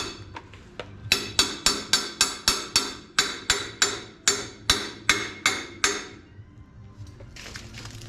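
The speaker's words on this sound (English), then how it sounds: "let me tap this down a little bit and start to welding it." A hammer taps repeatedly on metal on a gooseneck trailer being repaired, sharp close strikes in a fairly quick steady rhythm, then a pause and a brief scrape at the end.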